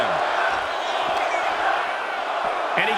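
An arena crowd at a WWE 2K25 wrestling show cheers in a dense, continuous roar that holds at a steady level for the whole stretch.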